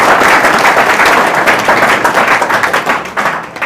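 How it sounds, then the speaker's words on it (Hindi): Close, dense audience applause: continuous clapping for a few seconds that thins slightly toward the end. "तो ताली बजा देते बता।"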